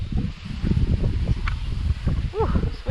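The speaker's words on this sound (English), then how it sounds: "Ooh, it's windy." Wind gusting outdoors, a low rumbling roar buffeting the microphone, with a voice speaking under it and a faint bird call near the end.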